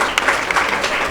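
A church congregation claps loudly and steadily, a dense wash of hand claps that holds at full strength for the whole moment with no voices over it.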